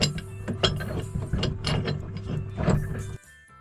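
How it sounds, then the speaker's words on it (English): A wrench working a jam nut on a boat's stuffing box, producing rapid, close metallic ratcheting clicks in bursts over a faint steady hum before stopping abruptly. "I'm going to see if I can loosen that jam nut just a hair more and tighten it up just a little bit more"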